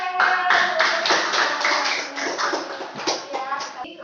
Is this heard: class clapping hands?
yes